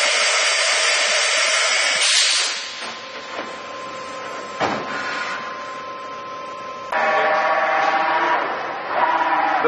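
A 1996 Mazak VTC20B vertical machining center runs a rapid traverse, a loud close mechanical whine and hum that shifts in level and pitch as the axes move, with brief thuds between.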